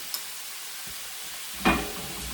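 Beef and celery sizzling in a stir-fry pan, a steady soft hiss with a sharper spatter near the end and a small clink at the start.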